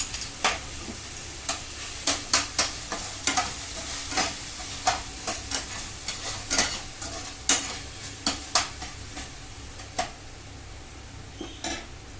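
Green chili, garlic and ginger sizzle in a pan of hot oil for a homemade veg biryani, with steady frying hiss and repeated sharp clicks of a spoon stirring against the pan.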